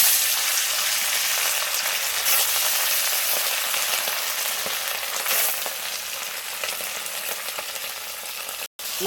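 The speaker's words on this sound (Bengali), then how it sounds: "মাছগুলো সব ভাজা হচ্ছে" Sardines frying in hot oil in a wok: a loud, steady sizzling hiss with occasional crackles and stirring knocks, ending in a brief sharp clatter.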